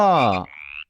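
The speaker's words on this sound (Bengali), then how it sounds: "ব্যাং" A frog croak, one loud tonal call followed by a thinner trailing note, close and with no speech.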